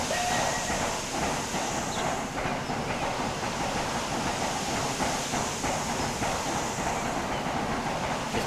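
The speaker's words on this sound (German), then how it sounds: "Der andere Zug, der da hinten wegfährt" An Austrian BBÖ 214 steam locomotive runs in the rail simulation game Transport Fever, with a steady rolling rumble and a faint rhythmic clatter of wheels over track, heard from onboard and continuous without pause.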